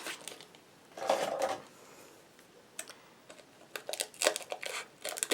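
Scissors snip through a small piece of transparent plastic tape in a few short, crisp crinkling bursts, close by, with quieter handling rustles between them.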